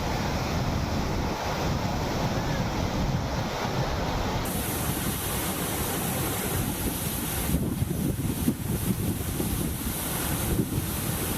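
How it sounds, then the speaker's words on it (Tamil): Water from a dam nearing full capacity pours out through three sluice gates at about 1329 cubic feet per second, a steady, loud, broadband roaring rush that continues unbroken with no voices. "அணை முழு கொள்ளளவை எட்டும் தருவாயில் உள்ளதால் 3 மதகுகள் வழியாக 1329 கன அடி தண்ணீர் வெளியேற்றப்படுகிறது"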